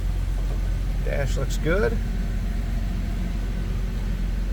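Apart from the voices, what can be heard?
2000 Jeep Wrangler engine idling after a cold start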